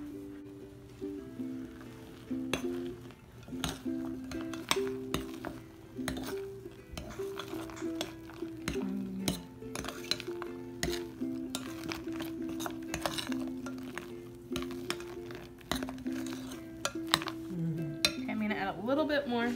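Crushed chocolate pieces being mixed into a vegan mint chocolate chip pie filling, repeated clinks and scrapes of a utensil against a bowl at a steady stirring pace, moderately close.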